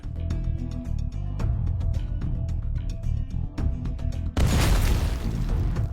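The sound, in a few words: explosions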